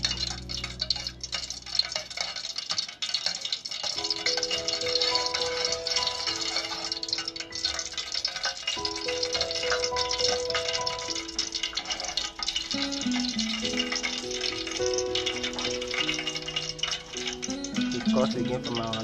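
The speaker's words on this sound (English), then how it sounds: "We stir it so that it can dissolve quickly." Bits of Laoli are stirred into a homemade hair cream mixture, giving soft, steady clicking and scraping that runs throughout, mixed with background music.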